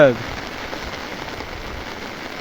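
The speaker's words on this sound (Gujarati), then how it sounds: "વરસાદ લેવા મળ્યો છે" Rain falling on a farm, a steady even hiss of drops on surfaces, close and constant for a couple of seconds after a brief opening sound.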